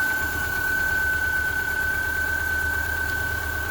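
A 2000 Subaru Outback engine, burning coolant, idles steadily close by with a faint ticking valve tap under a constant hum and a thin high whine; no talk.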